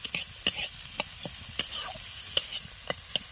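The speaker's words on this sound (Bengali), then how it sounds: "ভালো করে কিন্তু মশলাটা একসঙ্গে মিশিয়ে নেব" A spoon stirring spices (chili powder, turmeric, ginger) into cauliflower samosa filling in a pan, with irregular scraping strokes and soft sizzling, close up and without talking.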